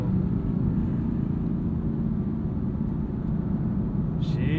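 A loud, deep engine roar builds steadily as a tuned 530hp 2015 BMW M4 with DCT accelerates hard, heard from inside with a constant rumbling drone.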